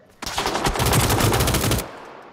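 Rapid automatic gunfire in PUBG: Battlegrounds, a loud close burst of shots fired in quick rhythm for about a second and a half before cutting off.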